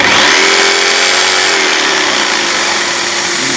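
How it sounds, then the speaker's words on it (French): A Mafell pendulum jigsaw fitted with a standard blade and set to full pendulum action runs at a steady, loud whine while cutting a piece of wood. "si l'on monte une lame normale et que l'on met le mouvement pendulaire à fond et qu'on se présente devant le morceau de bois"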